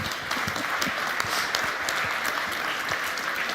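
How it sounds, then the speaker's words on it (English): Applause from an audience at a startup fair main stage, a dense patter of many hands with some sharper individual claps standing out, steady and moderately loud throughout. "a round of applause for you."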